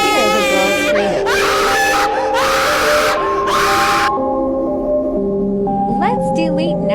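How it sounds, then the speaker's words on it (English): A girl screaming in a scary Roblox horror game, loud high wailing cries in several long bursts that break off into whimpering game sounds, with a voice talking over them. "I hear the girl screaming."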